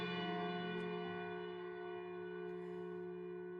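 A large bell from the video game Lost Odyssey rings in long, slow, sustained tones, its rich humming overtones hanging steadily and decaying only slightly, heard alone with no voices.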